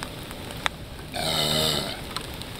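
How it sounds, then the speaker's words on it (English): A single deep, drawn-out burp rumbles for about a second, close and fairly loud, with quiet background noise around it. "Always finish burping before you start to talk."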